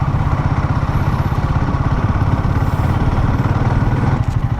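A big motorcycle engine runs steadily and close by with a dense, rapid low-end throb that holds even and loud throughout, with no voices over it.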